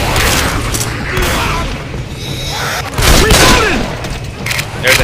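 Loud, rapid gunfire bursts from the shooter game I Hate Mountains, with heavy booming blasts that repeat close and dense through the clip.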